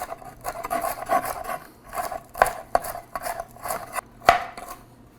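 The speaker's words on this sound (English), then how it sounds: "We're just breaking this cauliflower down to really small little bites." A knife breaks cauliflower down into small bites on a board, giving irregular scraping, rasping cuts with a few sharper knocks, close and unhurried with no talking.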